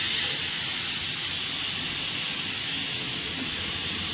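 Steam blasting out of a pressure cooker as its whistle is pulled open, making a loud, continuous hiss close by that holds steady for the whole stretch, with no talk over it.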